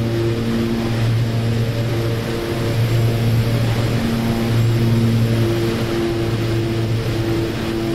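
OV-10 Bronco propeller aircraft in flight in the DCS World video game, a loud steady droning hum of engines and propellers with slowly pulsing tones throughout.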